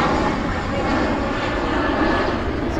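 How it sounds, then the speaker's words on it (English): Jet aircraft passing overhead near the Lincoln Memorial in Washington, a steady loud broadband engine roar filling the whole stretch with no talk over it. "Gotta be annoying when a jet comes through."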